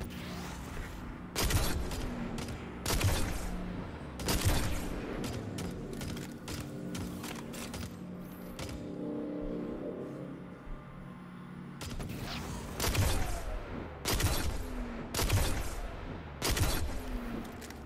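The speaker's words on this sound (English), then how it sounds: "You wanna stun him and I'll take some shots?" Gunshots in a video game, spaced heavy shots arriving in small clusters with quieter mechanical rumbling and clanking between them, moderately loud with no speech.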